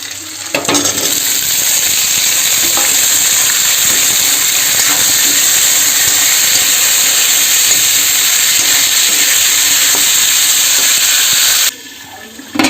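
Potatoes go into onions frying in oil in a pan, raising a loud, steady steam-like hiss and sizzle that runs close up for nearly the whole stretch, then cuts off abruptly near the end.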